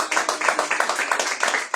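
A Sunday church congregation clapping rhythmically in a brisk, continuous pattern, full and close, with faint voices mixed beneath the clapping.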